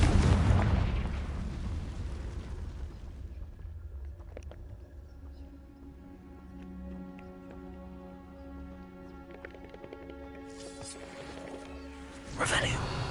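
A Confringo blasting spell explodes in Hogwarts Legacy, a loud booming burst at the start that fades into a ringing, tonal magical tail, followed by another burst near the end.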